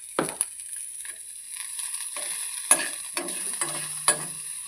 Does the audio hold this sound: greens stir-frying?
yes